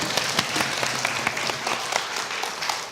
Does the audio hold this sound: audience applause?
yes